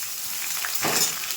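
Gobindobhog rice hitting hot oil in a pan after fried onions and whole spices, a short close sizzle that swells briefly as the grains go in, then settles.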